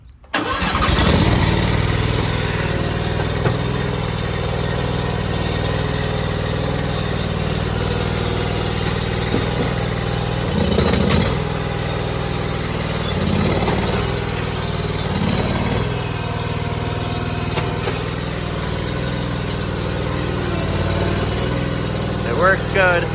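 A Predator small engine swapped into a skid loader cranks and catches, then settles into a steady, loud mid-pitched idle with occasional revving surges, while someone speaks over it.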